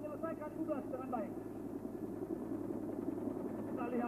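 A military helicopter moving troops at a 1994 Kopassus special forces anniversary ceremony drones steadily in the background for several seconds, a continuous rotor hum with someone speaking over it.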